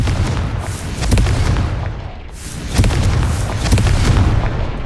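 Confringo fire spell explosions in Hogwarts Legacy, a video game: loud, deep booming blasts bursting one after another over a continuous roaring rumble.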